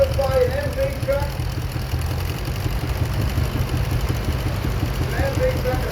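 Vintage steam road tractor engine running at an outdoor steam and vintage show, a steady low rumbling chug held throughout under crowd noise, with a voice talking faintly near the start and end.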